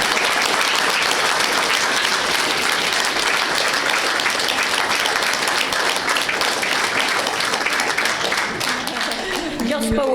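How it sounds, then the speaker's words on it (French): Sustained applause for the artist Vanessa at her exhibition opening in the Paris 8th arrondissement town hall, dense and loud throughout with voices mixed in, thinning slightly near the end. "On peut l'applaudir"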